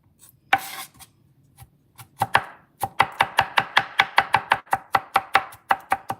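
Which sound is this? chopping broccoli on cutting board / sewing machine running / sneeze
chopping broccoli on cutting board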